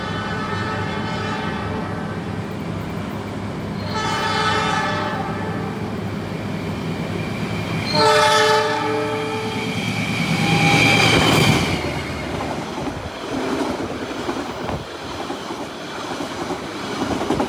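Baturraden Express passenger train at Bojong station, passing the Lodaya train: a loud, continuous rumble of rolling cars with shrill wheel squeals and humming tones rising and fading, close by and without talk.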